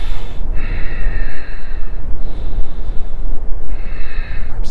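Deep, forceful breaths during a power yoga and pilates workout, taken close to the microphone. There are a few sharp inhales and long exhales in a slow rhythm.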